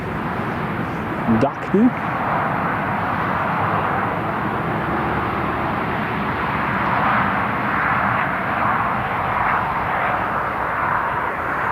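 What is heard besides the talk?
aircraft climbing away after takeoff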